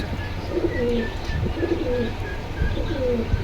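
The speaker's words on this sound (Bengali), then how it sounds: "এই দুই পেয়ার খাকি যদি আপনারা কেউ একসাথে নিতে চান তাহলে মাত্র ষোলোশো টাকা" Khaki pigeons at the Jinjira pigeon market in Keraniganj, Dhaka, coo repeatedly in soft, close, overlapping calls over a busy background murmur.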